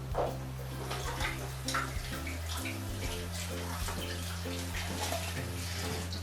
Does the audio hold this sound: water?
yes